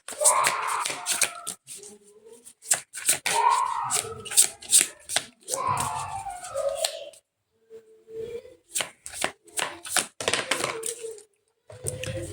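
Tarot cards are shuffled and riffled close by in repeated sharp, papery bursts, with short quiet gaps between rounds of handling.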